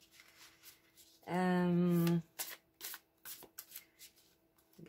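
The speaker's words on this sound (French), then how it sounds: "on va aller tirer 3 cartes du Light Seers Tarot" Light Seers Tarot cards are shuffled in quick, close riffling bursts that follow a brief sustained tonal sound, with no talk over them.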